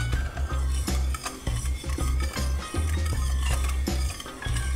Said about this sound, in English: We're going to put a little bit in and stir,